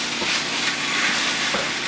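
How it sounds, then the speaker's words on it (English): Steak meat browns in a pan with a dense, continuous sizzle and frying hiss, close and steady with slight stirring pulses and no voices. "we want to just keep turning this meat, keep browning it"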